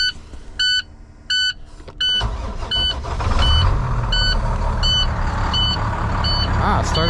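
An ambulance-style work truck with air brakes cranks and its diesel engine catches, settling into a steady loud idle after a few evenly spaced electronic beeps from the cab.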